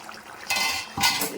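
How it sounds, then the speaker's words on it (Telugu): A lid goes onto a simmering pot of ridge gourd, chana dal and milk masala curry with two quick metallic clanks close by, separated by a short gap, over a faint background. "ఇప్పుడు మనం మూత పెట్టేద్దాం"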